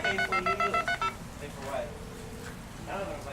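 A quick run of about eight touch-tone dialing beeps from an emergency call box on a campus, evenly spaced, followed by a faint hum and quiet background noise.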